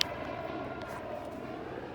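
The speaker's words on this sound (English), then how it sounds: "That's a helicopter." A helicopter passes over a backyard garden, a steady, broad engine and rotor rumble that stays even and fairly loud for the whole two seconds with no voices.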